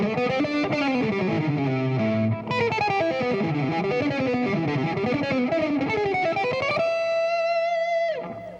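Distorted electric guitar playing a flowing line of chromatic passing tones in a fusion style, loud and sustained, ending on a held bent note that fades out.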